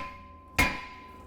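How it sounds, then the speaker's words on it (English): A hammer strikes the brake rotor of a Nissan Rogue once to loosen it, a single sharp metallic bang against a quiet hum of the shop, with a short ringing decay. "All you're going to have to do is just hit it with the hammer"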